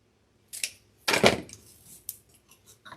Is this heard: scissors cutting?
yes